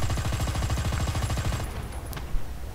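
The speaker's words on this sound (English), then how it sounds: "but I'm still firing my machine gun" A tank's machine gun fires in War Thunder, a fast, steady rattling burst close and loud for well over a second, then stopping and leaving a faint rumble with a small click.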